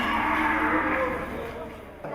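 Calves at a livestock market moo in a long, drawn-out low call, loud and fairly close, fading toward the end amid faint background market noise.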